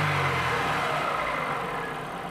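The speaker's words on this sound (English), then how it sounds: "Release the throttle and wait until the engine returns to idle." A car engine drops back to idle after a sharp blip of the throttle to about 3,000 RPM, with a steady running drone that eases down and settles, close and fairly loud, with no talk.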